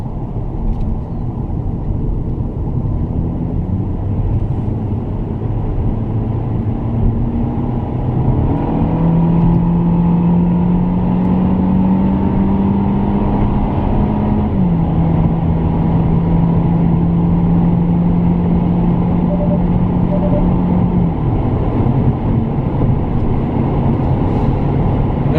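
A Hyundai Sonata LF pulls away and accelerates on the road, a continuous engine and road drone heard from inside the car, with a rising, then long steady engine tone as it gathers speed.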